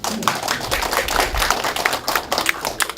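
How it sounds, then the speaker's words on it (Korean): An audience at a county residents' dialogue meeting in Cheongsong claps together in a dense patter of hand claps, close and lively for a few seconds, with a voice speaking over it. "우리 한번 박수 한번 쳐주십시오."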